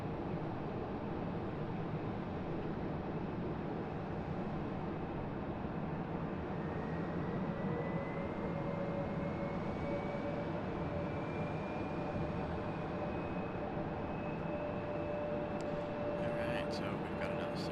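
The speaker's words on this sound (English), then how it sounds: "we'll catch this Embraer departure" An Embraer jet airliner departs at Raleigh-Durham airport as a steady, fairly distant engine roar with a faint rising whine, continuous throughout, with brief clatter near the end.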